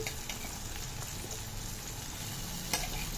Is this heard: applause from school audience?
no